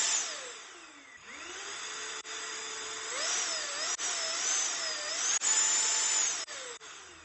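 A modified battery-powered air blower whines as its motor speed rises and falls, the pitch climbing from low to high and dropping back, with a few brief cut-outs, running close and alone.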